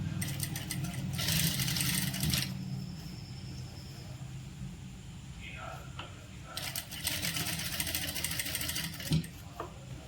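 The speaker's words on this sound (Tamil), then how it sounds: "இதே மாதிரி உருட்டி மடித்து தைச்சிக்கலாம்." An electric sewing machine stitches rolled, folded piping fabric onto a churidar during hand-design tailoring, running in two loud, steady whirring bursts with a quieter pause between them under low background hum.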